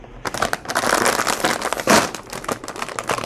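A plastic bag is opened, giving continuous close, loud crinkling and rustling throughout with irregular sharp crackles.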